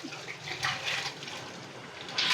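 Water used to wash dried anchovies is poured out, a close, continuous splashing stream that swells briefly and again at the end.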